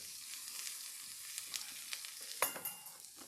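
Onions browning in butter in a pan, a soft, even sizzle with a few light taps and scrapes of a utensil, quiet and with no talking.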